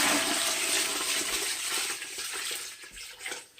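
About a gallon of water poured from a pot over a turkey, a steady rushing splash that gradually thins out toward the end.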